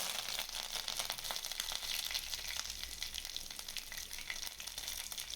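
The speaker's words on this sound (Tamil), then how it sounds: "இது நல்லா பொரியவும் கருவேப்பிலை சேர்த்துக்கணும்" Cinnamon and stone flower sizzle and crackle steadily in hot oil, a continuous close frying hiss with small pops throughout and no voices.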